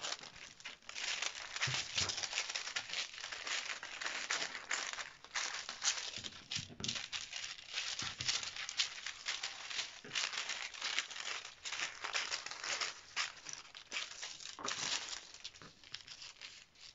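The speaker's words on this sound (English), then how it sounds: "Going to cut now." Dress fabric is cut with scissors, giving steady crisp snipping and crinkling of the cloth, close and continuous with no talking.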